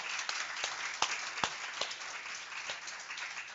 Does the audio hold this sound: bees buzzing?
no